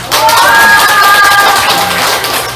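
A crowd at an indoor party political education event cheers and shouts loudly, with clapping mixed into a dense, steady roar, and a few voices stand out briefly above it.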